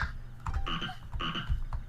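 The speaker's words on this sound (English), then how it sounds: "Oh my god, a frog." Frog croaks in a horror video game, several loud, close croaks in uneven bursts standing alone without talk.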